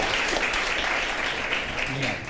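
A studio audience on a morning TV show claps briefly after a song cover, a short burst of applause with voices mixed in underneath.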